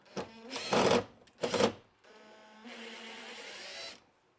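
A power driver backs out screws on a Polaris General side-by-side: two short whirring bursts, then a longer, steadier run of the motor, close and fairly quiet, with no talking.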